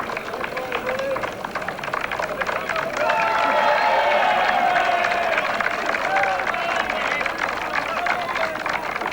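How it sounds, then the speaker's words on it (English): Racecourse crowd at the 1983 St Leger roaring and applauding as the winner returns, a broad wash of clapping and cheering that swells midway, with a commentator's voice running over the noise. "Let's hear the applause."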